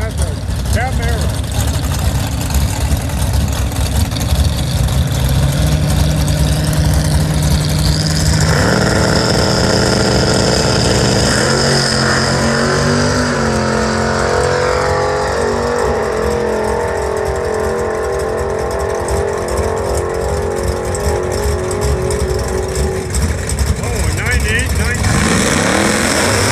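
A Chevrolet Camaro at a drag strip, St Thomas Dragway, rumbles and revs under continuous crowd and announcer noise, with engine pitch rising and falling over a loud, busy background.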